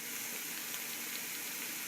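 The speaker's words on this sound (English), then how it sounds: "over here I got the salsa sauteing with the spinach" Salsa and spinach saute in butter in a pan with a steady, soft sizzle, a faint even hiss that holds without a break.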